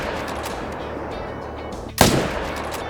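A single loud rifle shot cracks out at a moose in the hunting game Call of the Wild, a sharp broadband blast with a short decaying tail after a steady outdoor ambience.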